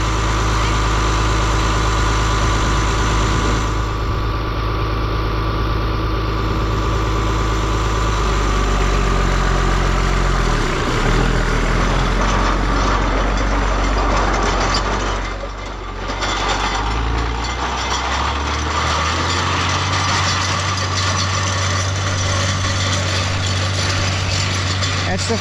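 A vintage Oliver tractor engine idles steadily close by, a continuous low rumble running through the whole stretch with a brief dip midway, with no talk over it.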